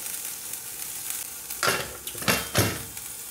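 Kangkong cooking in a pan for beef sinigang: a steady low sizzle and bubbling, then several louder scraping stirs of a utensil against the pan, up close.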